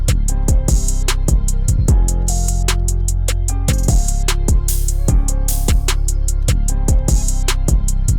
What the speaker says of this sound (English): And what I can do is reverse the guitar